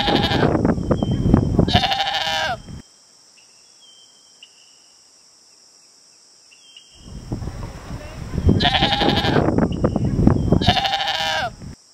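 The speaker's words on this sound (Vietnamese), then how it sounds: "Goat." A goat bleats loudly and up close in two bursts of wavering cries separated by a quiet gap, with a steady high insect-like chirr underneath throughout.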